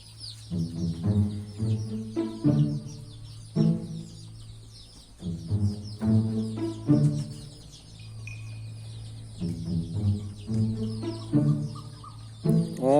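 A hen clucks repeatedly nearby in short, rhythmic bursts, with brief pauses between phrases and faint birdsong in the background.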